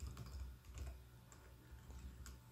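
Typing on a computer keyboard, a run of soft, quick key taps at an uneven rhythm, faint and close, with no speech.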